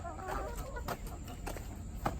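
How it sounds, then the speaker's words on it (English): Garden chickens cluck and squawk close by in short bursts, mixed with rustling and scuffling among tomato plants. "These chickens are bad."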